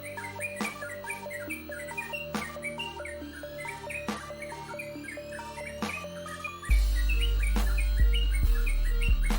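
A sooty-headed bulbul sings a lively, varied sequence of bright chirps and whistles, close and clear over soft background insects and a low hum.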